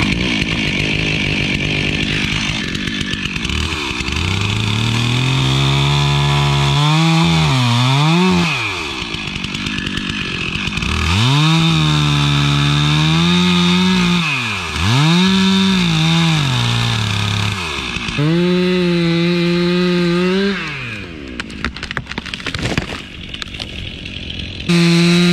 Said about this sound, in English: Yeah, the saw is sharp as heck. It's just dirty.